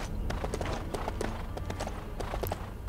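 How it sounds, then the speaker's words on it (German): Horse hooves clip-clopping at a steady trot as a rider crosses terrain in the video game Lego The Hobbit, a quick, even rhythm of light thuds heard alone. "Nehmen wir mal kurz ein Pferd und reiten hier rüber."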